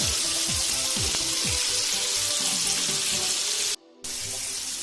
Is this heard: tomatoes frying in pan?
yes